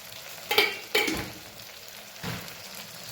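Masala with salt and a pinch of jaggery being stirred and frying in a pan, with two quick scraping strokes over a steady soft sizzle, then a lower scrape, close by and with no talk.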